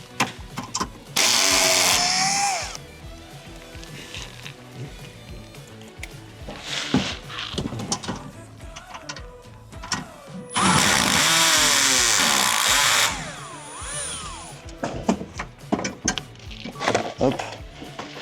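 A power tool with a 10 mm socket spins out bolts on a Mercedes Sprinter engine cover in two loud, whirring bursts of a couple of seconds each, with talking and tool clatter in between.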